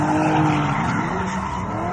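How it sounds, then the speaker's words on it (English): A car drifts around a small private racetrack beside a house, its tires squealing in a long, loud, wavering screech over the engine's drone. "It's a very gutsy layout because you basically drift in front of the front door."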